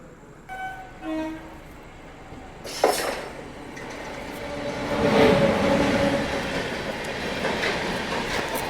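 A Nagpur–Mumbai Duronto Express passes: short horn toots at first, then a rising roar of wheels and rattling cars that swells, stays loud and rumbles on to the end, with no talk.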